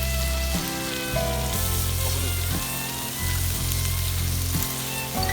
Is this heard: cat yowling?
no